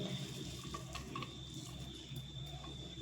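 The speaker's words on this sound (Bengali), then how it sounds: "এইভাবে আলু চেপে জল বার করে নেব" Salted grated potatoes are squeezed by hand to press out their water, giving a faint, steady wet trickle and dripping with soft squelches, quiet and continuous, with no talking.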